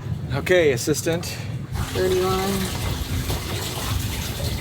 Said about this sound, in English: I'm actually gonna time how long it takes to fill up 1 liter of water